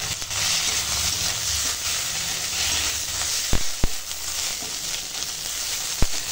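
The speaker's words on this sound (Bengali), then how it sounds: "এখন দিয়ে দেব আদা রসুন আর জিরে একসঙ্গে বাটা, আর দিয়ে দেব টমেটো কুচো, দিয়ে দেব হলুদের গুঁড়ো, আর দেব লঙ্কার গুঁড়ো, দিয়ে একটু কষাবো।" Ginger-garlic-cumin paste, chopped tomato, turmeric and chilli powder sautéing in a pan, a steady close sizzle and fry hiss with a few sharp clinks of a spoon against the pan.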